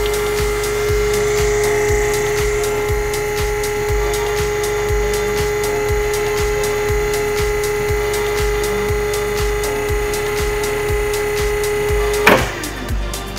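A hydraulic sausage stuffer motor runs with a steady mechanical whine and a tonal hum, with rapid regular ticking pulses throughout, ending with a sharp clunk as the motor disengages.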